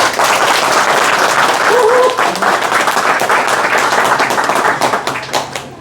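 Steady applause from an audience at a Chuncheon political town-hall event ahead of general elections, welcoming a lawyer to speak; dense clapping fills the room throughout, with a few brief murmurs underneath.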